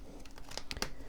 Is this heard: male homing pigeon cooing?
no